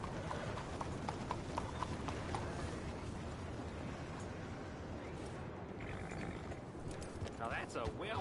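Horse hooves clip-clop at a steady trotting rhythm in the Red Dead Redemption 2 video game, loud and close, carrying under game voices and ambient noise throughout.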